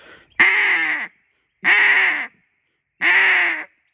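A duck call blown in three separate quacks, each a strong burst of air that holds briefly and then cuts off abruptly, close and loud with short silences between them.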